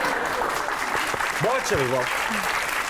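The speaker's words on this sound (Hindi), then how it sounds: "तालियां चले जा रही हैं" Studio audience applause runs steadily throughout a comedy talk-show set, a continuous wash of clapping with a voice speaking over it.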